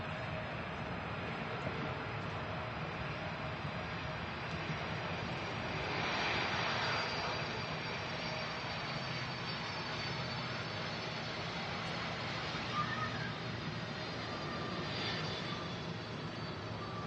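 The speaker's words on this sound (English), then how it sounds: "idle reverse being used" Aircraft landing at Manchester Airport with idle reverse thrust, a steady distant engine roar with a brief swell of rushing noise midway, no voices.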